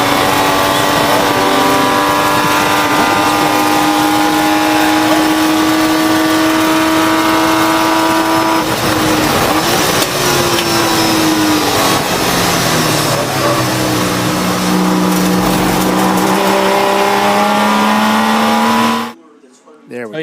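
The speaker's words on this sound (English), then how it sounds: "all they can hear is race car noise." A race car at a 24-hour ChampCar endurance event at Virginia International Raceway roars close and very loud in a continuous engine drone. The pitch holds, dips and shifts as it changes gear, then the sound cuts off abruptly near the end.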